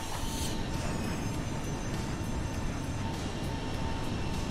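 Fighter jets in a flight simulator game produce a steady, loud, continuous engine roar with no breaks and no voices.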